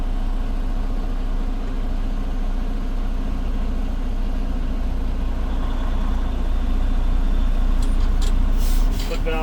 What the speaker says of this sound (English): Still wait for my brakes to release there.